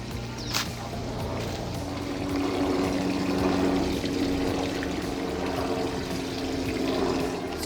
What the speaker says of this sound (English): I'm going back inside to let the water drain properly.